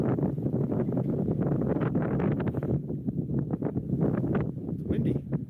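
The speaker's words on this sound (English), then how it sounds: "It's windy." Gusty morning wind on a mountain road buffets the microphone in continuous rough bursts, loud and close, with no clear talking.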